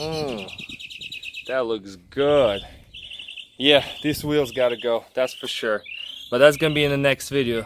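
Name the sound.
birds singing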